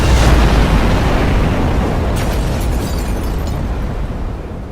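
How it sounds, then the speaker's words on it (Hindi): A heavy, rumbling explosion of a bomb blowing apart a boat, loud and close, its deep roar sustained and slowly fading over several seconds. "एक तेज धमाका हुआ और बोट के चिथड़े उड़ गए।"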